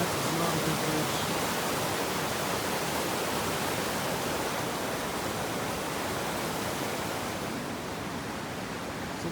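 Loud, steady rush of fast-flowing stream water at Maligne Pass in Jasper, a broad continuous roar with no breaks, close by and alone.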